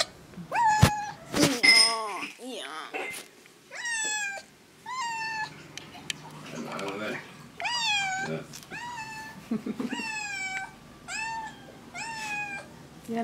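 A house cat meowing repeatedly at close range, a steady series of rising and falling meows spaced a second or so apart, with a couple of soft thumps near the start and no clear speech.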